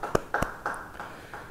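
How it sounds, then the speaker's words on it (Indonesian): A few separate, fairly faint claps from a church congregation during a Bible study sermon, sounding loose and scattered in a quiet room rather than a full round of applause. "Beri tepuk tangan bagi dia."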